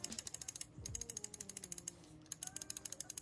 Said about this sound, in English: here's a quick sound test of the Starlight 12, starting with the left mouse click.